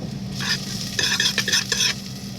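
A plastic spoon stirs in hot oil in a pan, giving a close, steady sizzle with several scraping strokes.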